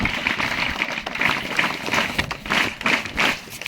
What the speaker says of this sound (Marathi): विशेषतः 10वीच्या विद्यार्थ्यांना जोरदार टाळ्या वाजवून आपण शुभेच्छा देऊ